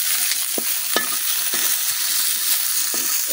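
Chepa shutki, fermented dried fish wrapped in pumpkin leaves, fries in a pan with a steady loud sizzle, broken by a few scraping stirs as the parcel is flipped.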